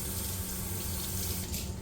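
Tap water runs steadily into a sink to soak cooked pasta in cold water, a close, continuous splashing stream with no talk.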